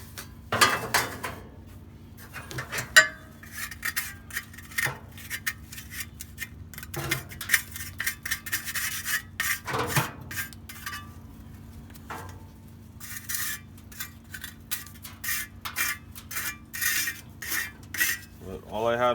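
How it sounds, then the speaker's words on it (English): Metal scraping and rasping as a Weber Smokefire grill is cleaned, with irregular strokes, clanks and pauses, close and fairly loud. "this video is just going to be me cleaning this grill"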